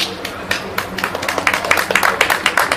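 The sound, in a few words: applause at a press conference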